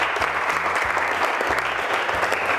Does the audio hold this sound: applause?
yes